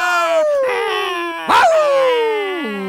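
A dog howls and whimpers in long, wavering, sliding cries, loud and close, with a brief sharper yelp in the middle and no barking heard.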